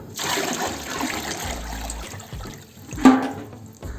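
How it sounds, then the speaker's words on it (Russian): Water pours and trickles steadily at close range into a trough for cows in a village barn, with a brief splash and a few knocks toward the end. "Здесь водичку наливаем."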